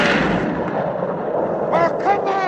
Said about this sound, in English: Take a couple more shots. If you think your shotguns will reach that far,